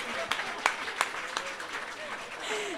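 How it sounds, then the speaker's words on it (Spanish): Audience applause at a live comedy show in Palermo Teatro Bar, with a few sharp claps standing out over a sparse scattered patter while voices carry on over it. "¡Un aplauso!"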